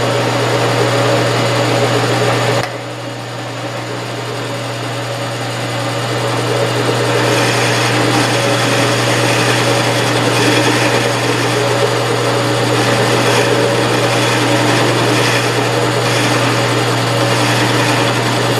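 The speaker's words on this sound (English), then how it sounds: "boring head is cutting what I dial in" A milling machine runs a boring head in reverse, cutting a scissor knurl axle part: a steady mechanical whine and hum that drops briefly, then picks up a denser, grinding cutting texture and holds it.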